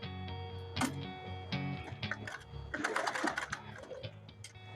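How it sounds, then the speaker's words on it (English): A manual sewing machine stitching a straight-stitch buttonhole, with its needle mechanism rattling in quick bursts of ticking clatter, close and moderately loud, pausing and starting again. "you are sewing it again on that second line"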